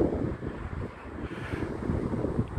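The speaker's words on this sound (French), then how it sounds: "Il y a du vent, j'espère qu'on m'entend un peu." Wind buffets an outdoor microphone on a street in Le Havre, a low rumbling roar that rises and falls in uneven gusts, moderately loud, with no speech.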